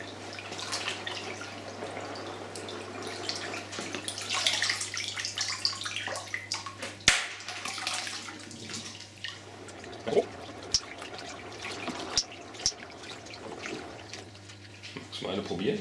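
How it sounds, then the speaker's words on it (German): Rose hips being washed by hand in water, with soft splashing, sloshing and occasional drips and clinks over a steady low hum. "Von daher also nicht zu lange waschen, aber doch schon so, dass wir die Beeren gründlich gewaschen haben."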